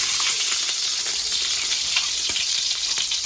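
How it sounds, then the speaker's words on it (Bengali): Ghee sizzles hard in a large pot on the stove while making basanti pulao, a dense, even frying hiss running unbroken and close up throughout with faint stirring ticks and no talking. "হাঁড়িতে দিয়েছি পরিমাণ মতো ঘি,"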